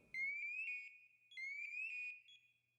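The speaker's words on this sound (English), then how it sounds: "Press the alarm button on the front of the ICM to test the manual pass alarm" The manual PASS alarm on a firefighter's breathing pack ICM sounds twice, piercing electronic tones that sweep upward in pitch, separated by a short pause, loud and close.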